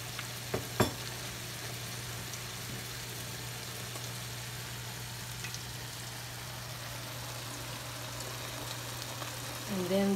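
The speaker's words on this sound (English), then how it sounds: "Just lower the heat. Let it simmer for another 5 more minutes." Ginisang ampalaya with marinated milkfish (bangus) simmering in a pan over lowered heat, giving a steady, soft bubbling sizzle throughout with a low hum beneath and a couple of brief knocks near the start.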